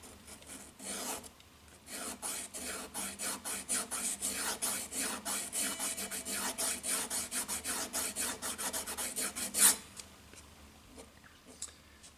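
Close, quiet rasping strokes of 1000 grit sandpaper polish the nut of a Tradition G10 Strat-style guitar, a steady back-and-forth rhythm that ends in a brief louder scrape before fading to near silence.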